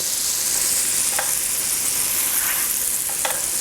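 Onions sweat in olive oil and butter in a pan, a steady close sizzle with a few soft stirring scrapes and no voices.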